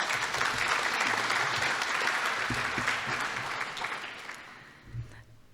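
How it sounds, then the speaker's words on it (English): At a municipal election forum, an audience gives a quick round of applause for the volunteers. The clapping is dense and even, then thins and fades out toward the end, with a voice briefly heard. "If we can have a quick round of applause for them"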